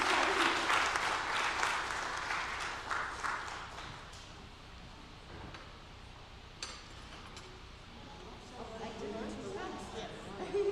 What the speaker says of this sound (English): maybe we give them a round of applause